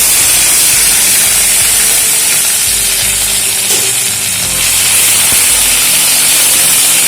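Ginger paste fries in hot mustard oil with panch phoron for shukto, giving a loud, close, steady hiss and sizzle that continues without a pause.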